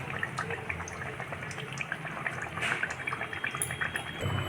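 Malpua, sweet khir pancakes, fry in hot oil with a faint, steady crackle and scattered small pops, soft and close with no voices.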